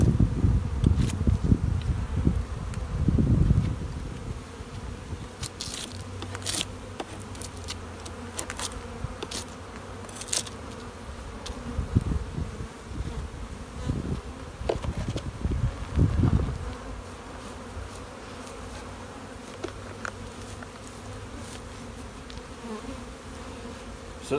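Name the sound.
honeybees clustered in a hive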